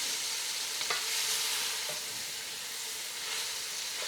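Collard greens and onions cook in a pot, giving off a continuous, even sizzling hiss with a couple of faint stirring knocks, steady and close, with no talking.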